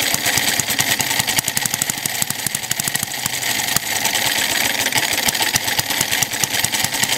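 A propane-fuelled four-stroke vertical single-cylinder engine runs loud and close with a rapid, even firing beat, holding steady speed as throttle is applied, with no talk over it.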